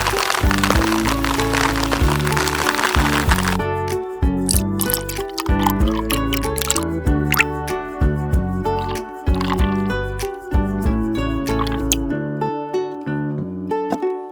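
Water splashes and sloshes as chicken thighs are rinsed with water and a little salt and squished by hand in a bowl, wet irregular sounds continuing close up with a background music bed.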